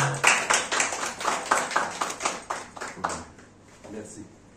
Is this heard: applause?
yes